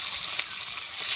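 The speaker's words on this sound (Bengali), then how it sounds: "পটল চিংড়ি করার জন্য ফোড়নে দেব গোটা গরম মশলা, তেজপাতা, পেঁয়াজ কুচি" Whole garam masala, bay leaf and chopped onion frying in tempering oil for a pointed gourd and prawn dish, a steady close hiss of sizzling with no pauses.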